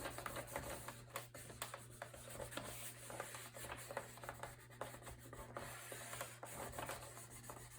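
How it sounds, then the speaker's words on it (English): Paper is burnished down onto a mini album cover with repeated soft rubbing strokes and small scraping ticks, a quiet, close, uneven rhythm over a low steady hum. "I'm going to lay this down and burnish so that it adheres to my cover"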